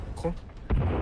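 A short muffled blast booms out after a brief moment of voices, loud and low, an explosion in the game Sons of the Forest.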